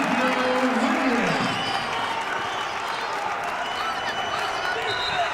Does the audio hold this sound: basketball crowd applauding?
yes